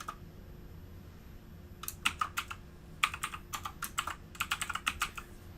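Login details typed on a computer keyboard, quiet at first, then bursts of rapid crisp key clicks picking up into a dense run, close and clear over a faint background hum.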